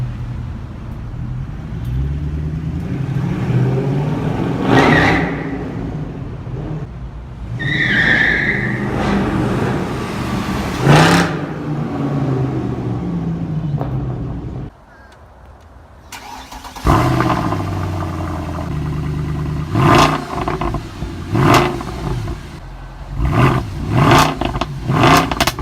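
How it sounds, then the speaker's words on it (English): Mercedes C63 AMG engine and exhaust, loud and near, with a run of revving, a short quiet gap, then a burst of sharp throttle blips carrying crackles and pops. "This thing likes to crackle, pop, burble. The motor sounds damn near like an F-Type."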